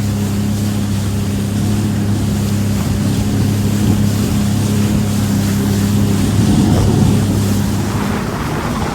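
A jet ski runs at sea off Malgund Beach, its engine a steady, loud, close drone that holds for the whole stretch, with wind buffeting the microphone and water rushing beneath.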